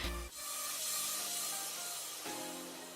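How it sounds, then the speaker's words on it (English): Herbal Essence hairspray sprays onto hair in a steady close hiss lasting most of the moment, with a brief pause and a second burst near the end. "I'm just adding this Herbal Essence hairspray so that will help my hair stay in place better"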